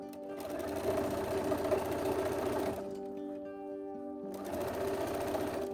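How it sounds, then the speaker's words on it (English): A sewing machine stitches the hem of a Renaissance-style underdress in fast, even runs, pausing for a moment before it starts again, close and clear with no talking. "we're going to stitch right along this edge to finish it"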